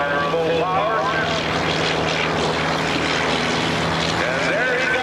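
Propeller aircraft engine roars steadily at full power as the plane lifts off the roof of a moving van at an airshow, loud and continuous throughout, with a commentator talking over it on the public address.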